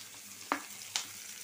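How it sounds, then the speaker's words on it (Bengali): Green chilies and a hilsa fish tail fry in hot oil, a soft continuous sizzle with two sharp crackling bursts as pieces hit or are stirred in the pan. "কিছু কাঁচামরিচ আর ইলিশ মাছের লেজ ভাজা নিতেছি"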